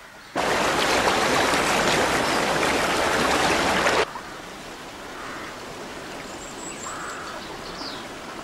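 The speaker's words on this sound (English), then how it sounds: "the rushing river that runs beside it" A river rushes beside a watermill in a loud, broadband roar of water that starts suddenly and stops after about four seconds, giving way to quieter outdoor ambience with faint distant birds.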